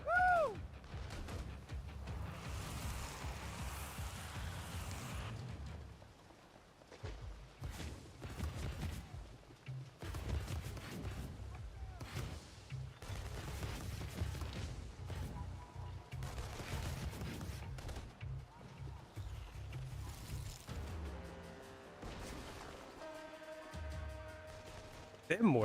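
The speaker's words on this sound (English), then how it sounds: "They have mortars or something? I'm wondering what's firing at me." Mortar fire in the video game inFamous: Second Son lands as repeated heavy booms and blasts among gunfire and other action sounds, fairly constant with brief lulls, at moderate loudness.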